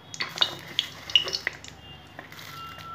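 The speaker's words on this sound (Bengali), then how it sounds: "জিরা ফোড়ন দিয়ে দিলাম" Cumin seeds tempering in hot oil for a bottle gourd and hilsa fish head dish, with light crackle and several sharp metallic taps of a utensil against the pan, close and fairly quiet.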